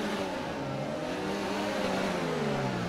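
Formula 1 race car engine at the start of the Australian Grand Prix at Albert Park in an F1 video game, a loud, steady high-revving drone whose pitch climbs and shifts as the car pulls away, with no talk.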